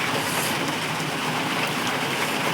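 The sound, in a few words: heavy rain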